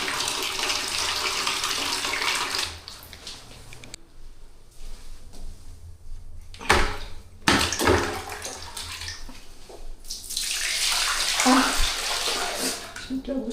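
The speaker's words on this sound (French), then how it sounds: "la chasse d'eau est tirée" Toilet flush in a restroom at Bukit Rhema, the chicken church near Borobudur in Indonesia, with a broad rushing burst of water followed by the cistern refilling in a steady hiss, a few thuds in between and some faint talk.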